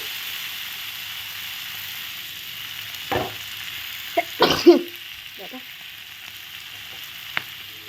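Mixed vegetables, including pumpkin, sweet potato and potato, sautéing in a pan for a vegetarian mixed-vegetable curry, with a steady soft sizzle and a few louder clatters and stirring bumps around the middle.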